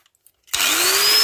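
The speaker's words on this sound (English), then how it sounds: "then we'll start using the angle grinder" An angle grinder spins up on an axe head during an axe restoration, starting abruptly after a near-silent pause and holding a loud, steady whine with a slowly rising pitch and a dense, hissing abrasive roar.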